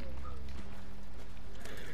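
Horse hooves clip-clopping in the Red Dead Online video game on PS4, a quick close rhythm of thuds over continuous loud game noise, with a voice briefly present.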